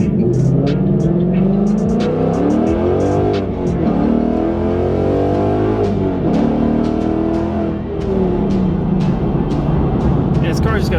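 A 2019 Mustang GT 5.0 V8 with 1 7/8-inch long tube headers, no cats and a Solo Performance street race exhaust revs hard in loud, rising and falling sweeps, close by and rowdy, with some talk alongside.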